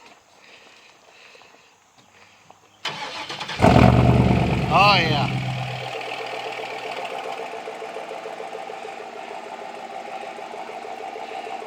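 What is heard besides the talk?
2007 Chevy pickup engine starting and idling with new exhaust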